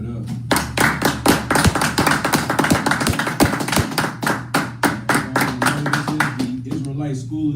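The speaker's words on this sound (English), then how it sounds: "go ahead and clap it up" Audience clapping at a Sunday night class of the Israelite School of Universal Practical Knowledge in Trinidad, a steady rhythmic beat of claps, close and loud, with voices speaking over it.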